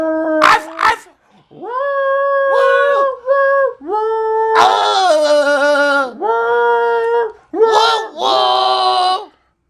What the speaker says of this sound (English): We barking Silent Night too.